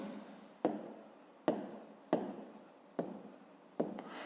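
Pen or chalk strokes while writing out a fifth-grade math solution come in five distinct scratchy bursts, each starting sharply and fading, close and quiet with no voices.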